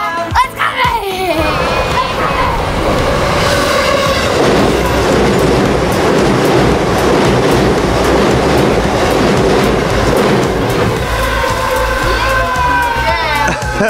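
A train rumbles and clatters past at a railway crossing in Japan, loud and close for most of the span, with rhythmic clickety-clack over the steady roar and excited voices of onlookers mixed in.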